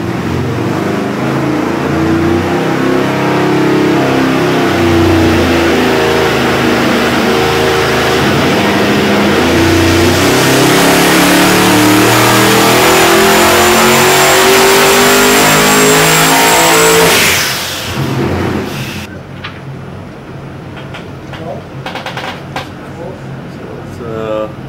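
A Nelson Racing 515 twin-turbo big block Chevy engine running on a dyno with mufflers, water pump and alternator fitted, roaring loudly through a long rising pull, then cutting off abruptly into a quieter idle and mechanical hiss.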